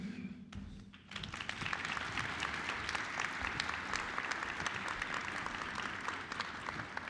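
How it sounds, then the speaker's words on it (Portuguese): A crowd breaks into warm applause to welcome a trio on stage. A brief tone and a thump come first, then dense, steady clapping that continues evenly to the end. "Queria que a gente recebesse com uma salva de palmas um trio."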